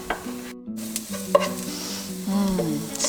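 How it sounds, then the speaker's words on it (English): Garlic tossed into golden fried onions sizzles in a pan for Iranian noodle stew, with steady frying hiss, a clink or two and a spoon stirring, close and moderately loud, without talk. "once my onions turn golden, I will add the garlic"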